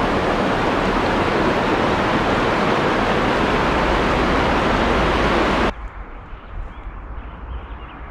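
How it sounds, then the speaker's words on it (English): Ice-cold river water rushes through Yosemite Valley in spring as a loud, dense, steady roar of flowing water that suddenly drops to a quieter, softer trickle partway through. "I could just sit here and hear the calming sounds of ice-cold water for hours."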